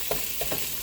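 Wood ear mushrooms fry on high heat in a pan, a steady hiss and sizzle with a few brief stirring scrapes, close and loud with no voices.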